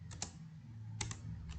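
Quick bursts of keystrokes on a computer keyboard, a few light clustered clicks separated by short pauses, close and fairly quiet against a faint low hum.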